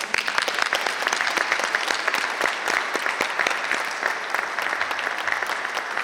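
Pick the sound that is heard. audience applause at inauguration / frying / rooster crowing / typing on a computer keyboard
audience applause at inauguration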